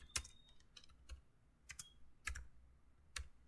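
Code being typed on a computer keyboard, a few sharp separate key clicks in short uneven bursts, close and fairly quiet, with no talking.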